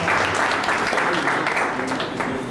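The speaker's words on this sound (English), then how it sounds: "Another round of applause for the people." Audience at a formal gathering giving another round of applause, dense continuous clapping filling the room throughout.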